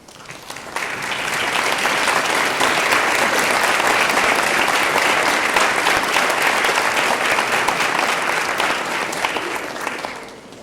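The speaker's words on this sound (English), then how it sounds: "stand now and be recognized by a round of applause" Sustained applause from a large crowd, steady and loud for about ten seconds before tapering off at the end.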